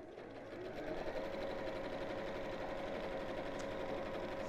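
A sewing machine runs in one steady, continuous, close-up whir for several seconds while stitching the fabric pieces of a ladies' evening bag right sides together along the darts.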